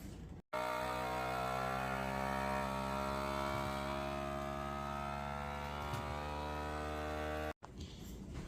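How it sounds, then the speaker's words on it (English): A vacuum sealer pumps air out of quart bags of frozen garden broccoli, making a loud, steady motor drone that runs about seven seconds and starts and cuts off abruptly. "So we're going to bag it into quart bags and we'll vacuum seal it."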